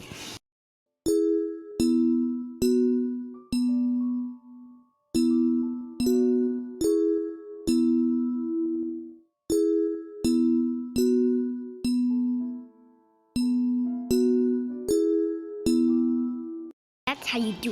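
A synthesized EOWS 612 emergency siren chime played in a bell-like Tinkerbell sound font: bright two- and three-note ding-dong phrases struck in steady groups, each tone ringing briefly before the next, clear and close with short gaps between runs.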